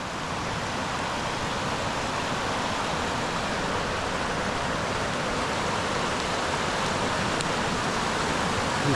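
Creek water flows in a steady, broad rush, loud and continuous from start to finish without any break or change.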